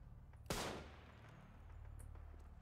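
A single sharp gunshot in the first-person shooter Trepang2 cracks out in a dark area, followed by a quick decaying tail and a low ambient hum, with no talking.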